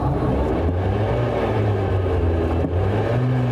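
A steady mechanical whir rises and holds, the cooling fan of a McMurtry Spéirling electric race car revved with the throttle pedal while stationary, a low droning hum that stays loud and even throughout.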